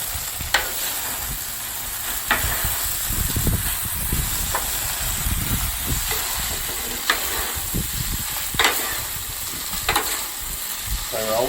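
Stir-fry sizzles and hisses steadily on a Blackstone griddle, broken by occasional scrapes and clinks of a utensil stirring the food, fairly close and continuous.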